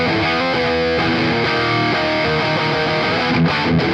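High-gain electric guitar through a Joyo Preamp House pedal on an EVH 5153-style amp model, a dense four-second riff of chugging, distorted chords and notes, loud, steady and unaccompanied by voices.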